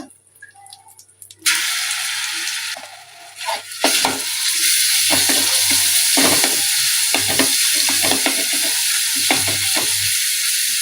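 Ginger garlic paste hits hot oil with asafoetida in a pan for a crab curry, erupting into a loud steady sizzle after a quiet start, with repeated spoon scrapes stirring through it.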